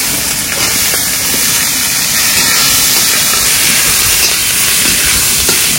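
Onion hits a smoking-hot pan with bay leaf, cardamom and clove in oil, producing a loud, continuous hissing sizzle that stays close and steady throughout.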